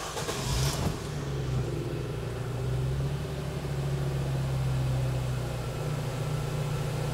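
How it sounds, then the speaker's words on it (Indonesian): A 2011 Nissan X-Gear with automatic transmission starting up, a short crank burst at the beginning followed by a steady, low, close engine idle that hums on evenly to the end. "Saya akan nyalakan mesinnya."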